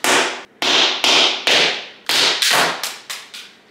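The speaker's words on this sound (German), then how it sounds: "Aber wird dieser Hammer es schaffen, die Tür zu zerstören?" A sledgehammer, nicknamed Nokia, bashing a Fiat car door, nine loud close metallic impacts, each ringing and decaying, first evenly spaced then faster near the end.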